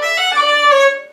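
A single sustained fiddle tone, Irish reel style, bowed as two identical notes joined without any cut between them, clear, close and solo for about a second.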